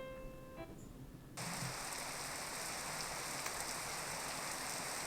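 Steady rain falling in a video game, a dense even hiss that suddenly swells louder after a soft start and then holds constant, with no speech.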